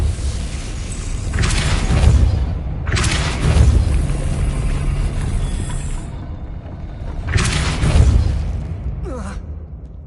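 Depulso spell cast in the Hogwarts Legacy video game, heard as loud whooshing magical blasts with booming impacts, several bursts spaced a few seconds apart over a rumbling background.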